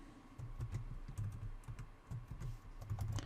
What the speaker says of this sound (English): go ahead and type in your information here